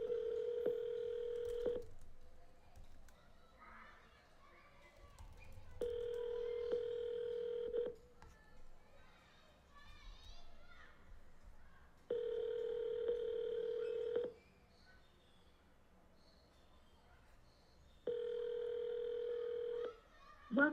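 Phone call being placed for real estate lead follow-up: four steady ringback tones, each about two seconds long, repeat at regular intervals, with faint room noise and a little background talk in the gaps.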